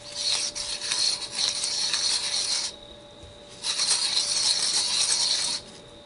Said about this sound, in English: we just insert the tool into the grooves, close the cutter in on it,